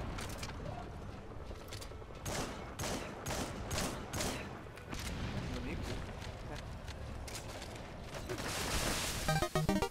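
Gunfire in the multiplayer shooter Metal Gear Online 3: rapid bursts of shots and heavy blasts in a busy, loud stream, with a voice talking over the battle throughout.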